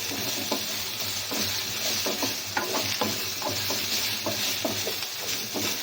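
Masala for egg thokku sizzles and fries steadily in a pan, with repeated scraping and stirring strokes under a constant hiss, close and fairly loud, no voices.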